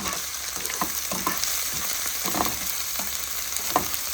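Tomato chutney ingredients sizzle in a pan with salt added, a steady frying hiss broken by a spoon scraping and stirring in irregular strokes every half second or so.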